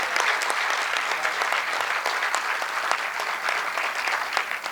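Steady, dense applause from an audience at an Urdu and Gujarati poetry gathering in Surat, sustained and even for the whole stretch with no voices over it.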